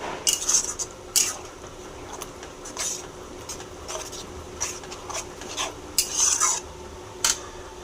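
A spoon scrapes and clinks through soybean curry in a pan as a spoonful of soy sauce is mixed in, with a series of short metallic scrapes spread across the stretch, close and fairly quiet, with no talking.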